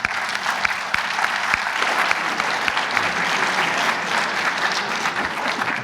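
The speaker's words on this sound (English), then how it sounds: "Let's give them another round of applause." Sustained audience applause for a medical AI ethics panel fills the room, a dense steady roar of many hands clapping from start to finish.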